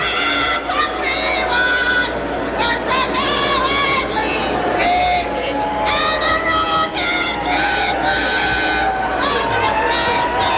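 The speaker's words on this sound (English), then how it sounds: "It wasn't long into the anthem that the fans started booing her." A packed sports stadium crowd boos a singer during the national anthem, with a loud, continuous roar of jeering voices filling the whole stretch and no pauses.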